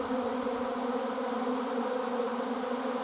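Honey bees buzz thickly around a hive, a dense steady drone of many wings at close range with no pauses and no voices.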